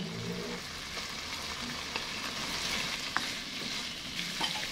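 Vegetables land in a pan of sautéing chicken, pork and liver with garlic and onion for pancit bihon, giving a continuous close sizzle with scattered stirring clicks and scrapes, no voice.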